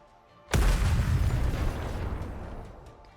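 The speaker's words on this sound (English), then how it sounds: "A loud explosion rings out near the walls of the lift, followed by clouds of smoke" An explosion goes off near the walls of a lift in the video game NIKKE, a sudden loud boom followed by a long rumbling decay over several seconds, with no talk.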